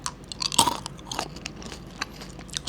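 Crunchy rock-shaped milk chocolate being chewed up close: a quick series of sharp, crisp crunches and bites over a few seconds, with no talking.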